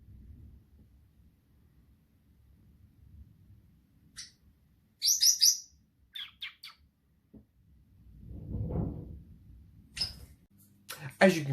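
Pet birds in an indoor bird room give a few short, scattered chirps and tweets against a quiet room, with a low murmur and some soft handling noises between the calls.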